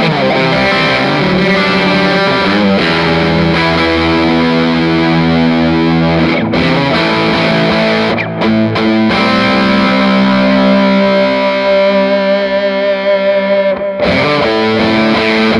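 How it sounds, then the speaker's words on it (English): Electric guitar through an Iron Horse V2 distortion pedal set to high gain, sustained saturated chords ringing with thick harmonics, loud and continuous, with a couple of brief breaks. "the Iron Horse version 2 distortion, which is in pretty high gain."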